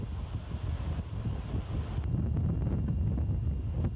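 Steady wind buffets the microphone in a low, continuous rumble on the backstretch of a bike criterium race, growing slightly stronger partway through, with no voices.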